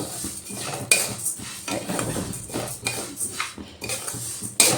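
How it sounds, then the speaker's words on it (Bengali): Mung dal dry-roasting in a wok without oil or ghee, stirred with a utensil that scrapes and clinks against the metal in irregular bursts, close and moderately loud, with no voices. "এবার আমি মুগ ডালগুলো একটু শুকনো ভেজে নেব"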